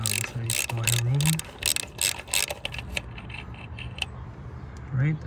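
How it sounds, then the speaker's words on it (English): A ratchet wrench with a 12mm socket loosens the EGR valve bolts on a 2002 Mitsubishi Montero Sport, close-up bursts of quick clicking, louder at first, with a pause and a shorter burst near the end. "we're gonna remove the two bolts holding the EGR valve in place"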